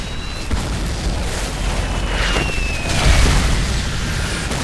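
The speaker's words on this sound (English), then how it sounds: "a massive artillery barrage ended the quiet in the Ardennes forest" Artillery barrage in the Ardennes forest during the Battle of the Bulge, heard as a dense, continuous rumble of booming shell explosions that swells louder partway through, with no speech.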